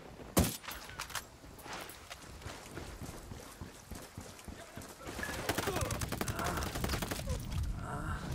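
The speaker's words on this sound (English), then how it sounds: "Taking fire from the camp entrance." Gunfire at a camp entrance in the video game Ghost Recon Wildlands: a sharp near shot at the start, then scattered rattling bursts that thicken toward the end, fairly quiet overall, with faint voices.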